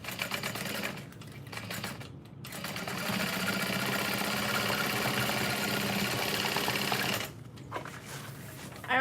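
Close-up, a sewing machine top stitches a bucket bag in a long steady whirring run, with short pauses and stops at the start and end.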